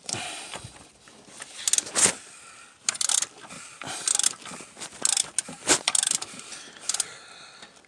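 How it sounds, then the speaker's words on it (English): A ratchet wrench with a 19mm socket tightens a coolant temperature sensor on a 2006 Dodge Caravan, giving bursts of close, sharp metallic clicking separated by short pauses. "Now let's take a 19mm socket with our wrench."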